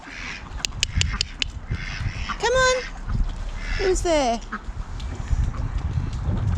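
Ducks being fed bread give a few loud, nasal quacks in two short bursts, close by, while a person talks and calls to them over outdoor background noise.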